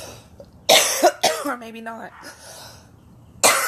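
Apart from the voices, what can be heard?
coughing attack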